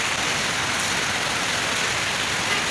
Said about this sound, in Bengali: শিলাবৃষ্টি হচ্ছে, ঠিক আছে, মানে শিল পড়তেছে